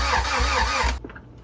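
A Honda Integra car engine with a B20V swap cranks and catches, then revs in repeated surges, loud and close, before cutting off abruptly into near silence.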